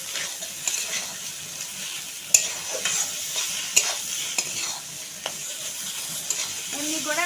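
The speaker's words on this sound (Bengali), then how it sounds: "10 মিনিটের মতন আমি কড়াইয়ের ভিতরে আলু আর মাছটা নাড়াচাড়া করতে থাকবো।" Fish and potato pieces are stirred in a kadai as they fry, with a continuous oily sizzle broken by scraping clicks and knocks of the spatula against the pan, close and alone.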